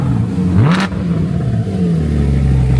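Porsche GT3 revving as it drives by, a brief rising engine rev early on, then a steady mid-pitched engine drone fading over constant background noise.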